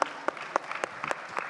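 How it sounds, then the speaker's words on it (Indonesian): A talk-show audience applauds for a guest, with sparse, distinct claps heard in an uneven rhythm. "Boleh tepuk tangan teman-teman buat Pak Aming."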